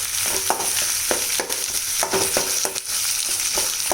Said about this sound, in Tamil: இந்த டைமில் உருளைக்கிழங்கு போடலாம் இப்படி நல்லா கரண்டியாலே கொத்தி விட்டிங்கன்னா